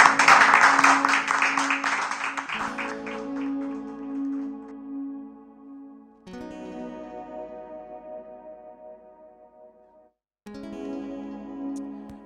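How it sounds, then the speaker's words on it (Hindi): Congregation applause welcomes a preacher at a church service. Loud clapping fills the first couple of seconds, then fades into sustained, echoing keyboard tones broken by short gaps of silence. "हम ताली से उनका स्वागत करते हैं"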